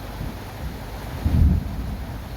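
A deep, low rumble of thunder rolls in during a lightning storm, swelling briefly over steady background rain and wind noise before fading, with no voices.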